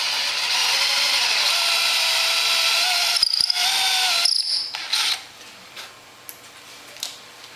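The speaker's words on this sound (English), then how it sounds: "I use a 5/16 drill bit" A power drill fitted with a 5/16 bit bores a hole in a workpiece, whirring steadily for a few seconds before it cuts off and leaves faint clicks and light handling noise.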